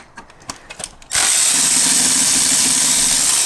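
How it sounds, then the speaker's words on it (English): A cordless battery wrench, not an impact gun, undoes Torx T30 screws around the fuel filter of a 2.0 HDi Peugeot Expert, Citroen or Fiat Scudo van. A few light clicks come first, then the motor whirs in loud and steady, up close. "this is just a battery wrench"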